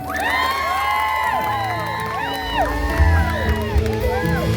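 A lively crowd cheers and shouts over loud music with sweeping tones and a heavy beat, with clapping mixed into the noise.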